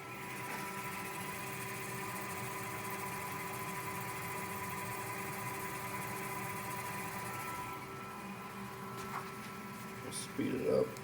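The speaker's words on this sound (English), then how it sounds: "I'll start it up, start the spindle, set this to 1000 RPM." Tormach 440 CNC mill spindle spinning up and running at around 1000 RPM, a steady mechanical whine and hum held evenly, with a few small clicks and knocks near the end.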